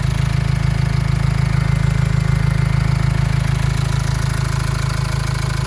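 A 2005 Renault Trafic 1.9 van's engine idles loudly and evenly nearby, a constant low throbbing rumble with a faint ticking rhythm and no talking.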